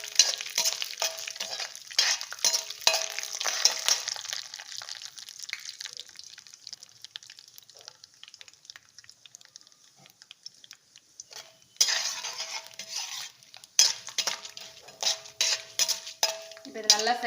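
Urad dal fries in hot oil for a tempering, with close crackling sizzle, scraping stirs and utensil clinks against the pan, quieter in the middle and busier at the start and end.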